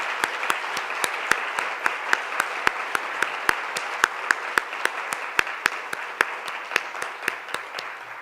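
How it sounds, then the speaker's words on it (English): A conference audience applauding, with a dense, steady wash of many hands clapping and a few sharp, prominent claps standing out throughout. "Let us give another round of applause,"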